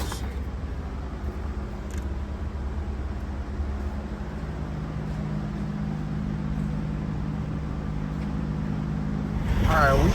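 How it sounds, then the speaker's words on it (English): A 1966 Buick LeSabre convertible cruises along on a test drive, its engine a steady low rumble under broad road and wind noise that swells slightly toward the end, with a voice briefly speaking over it. "we are test driving the 1966 Buick Lesabre"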